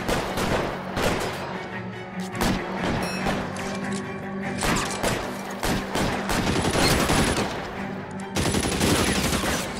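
Gunfire in the video game L.A. Noire, a dense continuous fusillade of rapid shots and thuds lasting throughout, loud and close, with some chatter mixed in.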